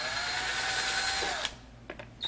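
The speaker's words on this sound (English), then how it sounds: "Using your VIX bit, pre-drill your pilot holes." A power drill fitted with a Vix self-centering bit whines steadily while pre-drilling pilot holes for a Blum Compact 33 hinge mounting plate, then stops, followed by a few faint handling clicks.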